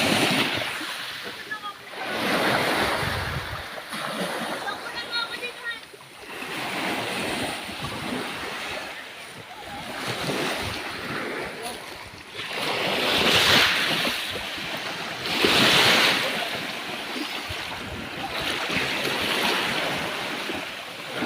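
Sea waves wash up and break at a white sand beach with rocks nearby, a continuous rushing surf with surges every few seconds, mixed with wind buffeting the microphone and occasional voices.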